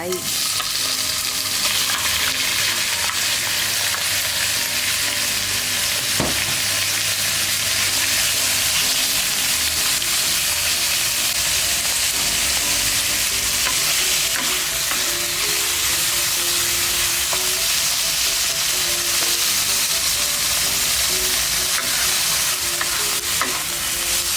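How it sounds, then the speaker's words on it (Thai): Garlic and then chicken giblets stir-fry in a hot pan, a loud, continuous sizzle and crackle with occasional scraping of the spatula as the food is tossed. "ผัดจนกระเทียมหอม กรอบเหลือง แล้วค่อยใส่เครื่องในลงไป"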